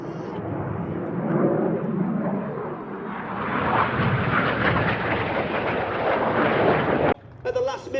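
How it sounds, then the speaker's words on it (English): A Red Arrows jet turning hard in the Cyclone manoeuvre at the Sywell airshow roars loudly and continuously, a broad rushing engine noise that swells and holds before cutting off abruptly near the end. "Each aircraft now turning hard as they complete the manoeuvre called Cyclone"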